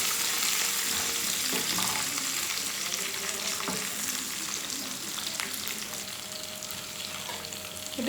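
Curry leaves sizzle and crackle in hot oil for a tomato pickle, a steady close frying hiss with scattered pops and occasional stirring scrapes.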